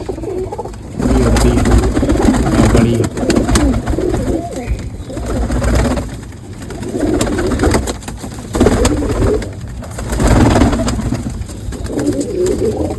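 Loud, close pigeons cooing in repeated rolling bursts, several birds overlapping, with a faint engine hum in the background.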